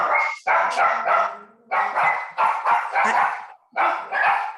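Dogs bark indoors in a home during an online meeting, a run of loud, close barks and yips in bursts with brief pauses between them and no voices over them.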